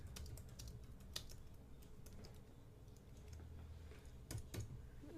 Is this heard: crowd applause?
no